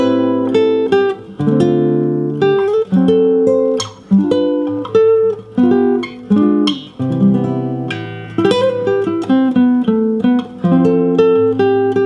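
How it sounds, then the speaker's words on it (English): A lone guitar plays the jazz chord-melody intro to a song, with full, rich chords and a sung-like top melody moving in steady phrases, close and clear with no voices. "now let's see if we can play through the entire chord melody intro"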